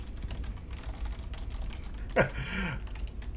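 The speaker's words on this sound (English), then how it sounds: "I was typing it real quick while people were saying" Quick typing on a computer keyboard during an online tabletop role-playing session of Star Trek Adventures, a steady run of soft clicks under a brief spoken word.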